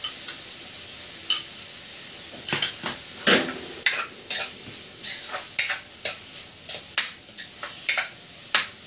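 A metal spoon clinks repeatedly against a pan or bowl while sweet corn is added to a dish in a home kitchen, giving sharp, irregular taps over a faint background sizzle.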